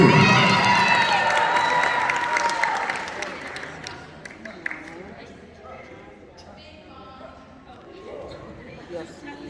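Loud, dense applause with cheering from an audience at a high school band banquet awards ceremony, strong at first and then tapering off into scattered claps and crowd murmur.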